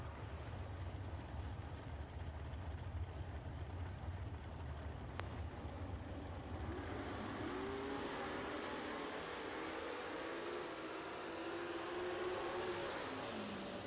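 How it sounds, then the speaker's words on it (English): A drag racing car at the IHRA World Finals drones at a distance, its engine note rising and falling as the driver goes on and off the throttle, alone and without talk. "I heard him on and off the throttle"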